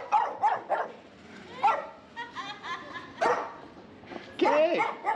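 A dog in the Bolivian central highlands barks, yips and whimpers in repeated bursts at close range, with people talking in between.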